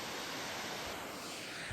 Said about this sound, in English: And there's a waterfall right there.